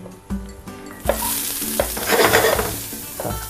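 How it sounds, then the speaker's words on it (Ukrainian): Vegetables for ratatouille hit a hot frying pan and sizzle loudly, with clinks and scrapes of stirring throughout. "овочі наші закидаємо на гарячу сковорідку."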